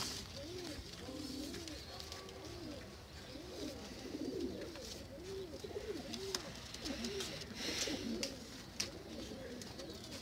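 Ali wala pigeons coo in soft, repeated rolling calls, several birds overlapping at close range with faint rustling behind them.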